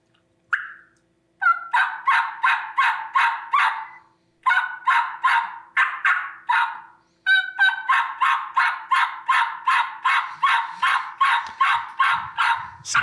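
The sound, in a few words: turkey yelping imitated on a turkey call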